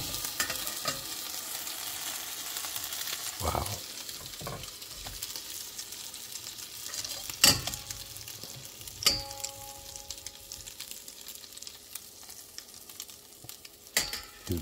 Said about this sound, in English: Burning the butter.